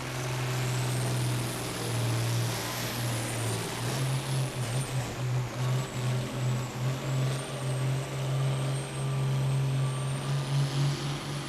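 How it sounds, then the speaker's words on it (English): A pulling tractor's engine runs at a truck and tractor pull at a county fair, a loud sustained low droning rumble with a high whine above it, steady and unbroken throughout, heard from a distance outdoors. "Tractor is still running."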